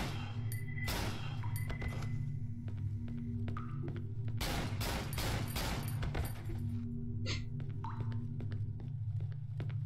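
Gunfire in the horror game Cry of Fear: sharp shots punctuate a low droning ambience, with a rapid cluster of loud bursts in the middle and scattered metallic clinks around them.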